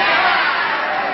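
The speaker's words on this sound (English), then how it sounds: "You are booing the great Dawson" A live studio audience at a 1976 CBS daytime game show loudly boos, a dense sustained crowd roar filling the whole moment.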